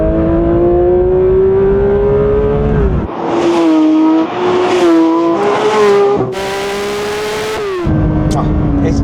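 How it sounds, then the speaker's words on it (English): A Porsche 911 S/T pulls away, its engine rising and falling through loud, raucous revs with gear changes between sharp climbs, heard from inside the car over steady road rumble. "Let's have a listen to this ST when I rev it out."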